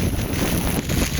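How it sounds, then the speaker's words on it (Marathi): Cold wind buffets the microphone in rain on a trek from Panhala to Pavankhind, a loud continuous rumbling roar without any break. "लय थंडगार वारा, थंड काय गारट पडलं की पाऊस पडायला लागलाय बाबा"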